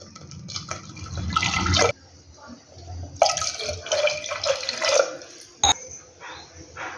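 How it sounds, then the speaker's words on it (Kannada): Water is poured into a pot of tomato sambar in two bursts, each a splashing, gurgling rush separated by a quieter gap, followed by a short clink. Faint voices are heard in the background. "ಈಗ 2 ಗ್ಲಾಸ್ ನೀರು ಹಾಕೊಂತಿದ್ದೀವಿ."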